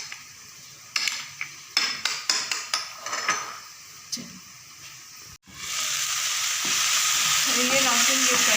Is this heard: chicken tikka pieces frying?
yes